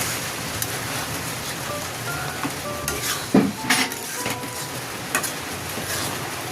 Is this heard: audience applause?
no